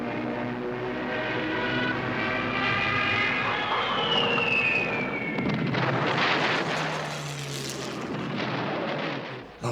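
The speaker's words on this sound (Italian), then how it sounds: "L'aviazione tedesca scatena l'offensiva bombardando e mitragliando la strada costiera e i reparti di fanteria e di artiglieria italiani" German Stuka dive bombers attacking in wartime, bombing and strafing a coastal road and Italian infantry and artillery positions: a loud descending aircraft whine and engine roar, then booming blasts and rumbling fire, continuous and without talking.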